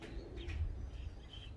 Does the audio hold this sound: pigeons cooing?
yes